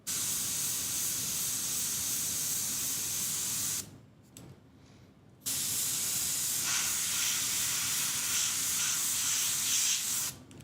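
Resolene leather finish sprays out as a fine mist in a steady, close hiss that pauses briefly and then resumes at full strength.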